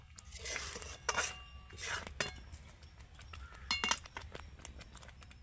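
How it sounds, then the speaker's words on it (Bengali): A kadai (wok) is lifted off the stove while cooking mango aamsatta from ripe mango pulp, giving a run of sharp metallic clinks and scrapes at moderate loudness, close by, with no talking. "এবার আমি কড়াটা নামিয়ে নেব"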